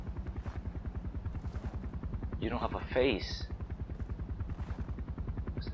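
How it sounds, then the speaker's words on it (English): A helicopter in Far Cry 4 thuds with fast, steady rotor chopping throughout, loud and close, with a brief burst of gunfire midway and someone talking over it. "Helicopter, helicopter, that's not good."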